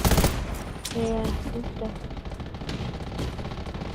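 Gunfire in the video game Undawn: a fast burst of shots at the start, then scattered shots and clatter, with a voice speaking briefly.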